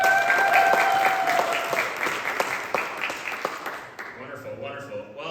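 Conference audience at a nomad business event in Bansko applauds a speaker, steady close clapping that thins out after about four seconds, leaving scattered claps and murmur.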